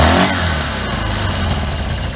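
A 1983 BMW R65 motorcycle engine running near the microphone, a loud steady mid-pitched drone with a slight rise at the start, with no talking over it.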